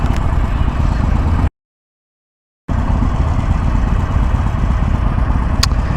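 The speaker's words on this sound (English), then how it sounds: "this is a 2021 Sportster 1200, and it doesn't shut off when you put the kickstand down" A 2021 Harley-Davidson Iron Sportster 1200 engine idles loudly and close with a steady rumbling drone, then a sudden complete dropout of about a second before the rumble resumes unchanged.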